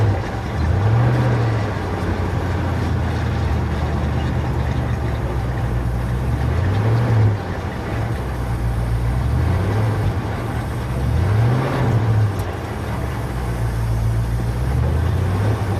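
A 1967 Pontiac Firebird driving around the block on its first drive after 25 years, a steady low engine drone throughout with a few slow rising and falling pitch sweeps as the revs shift, close and continuous with no talk.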